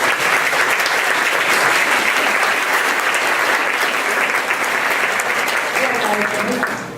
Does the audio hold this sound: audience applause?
yes